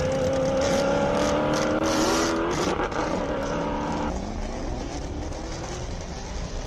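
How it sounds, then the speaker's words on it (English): A Hendricks-powered BMW Z4 race car at the Simola Hillclimb roars loudly and close, its engine note climbing steadily before a shift around midway, then continuing at a lower, steady drone. "Hendricks powered Z4, which just cannot get off the line."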